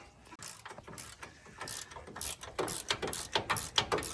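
A ratchet wrench tightens the front wheel bearing bolts on a 2010 Nissan Frontier 4x4, giving repeated rapid metallic clicking bursts in a steady back-and-forth rhythm, close and moderately loud.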